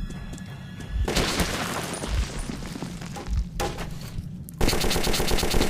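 Rapid bursts of automatic gunfire from the Metro 2033 video game, loud and close, with sustained volleys, sharp single shots and booming impacts.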